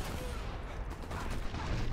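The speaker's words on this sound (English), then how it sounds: "there's some machine gunners all over the place" Machine-gun fire in Sniper Elite 4, a dense, continuous crackle of rapid shots under a busy wash of battle noise, steady and moderately loud for the whole stretch.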